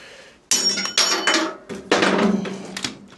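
Several sharp metallic hammer blows strike a motorcycle lock in irregular succession, loud and close, with bright clanging overtones and short pauses between strikes.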